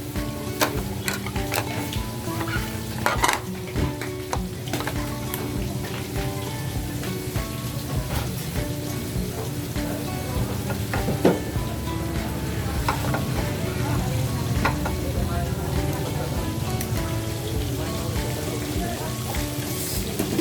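Pork chops crackle and sizzle in a flaming pan at a sisig street stall in Quezon City, a dense, steady frying hiss with scattered pops and clanks running throughout.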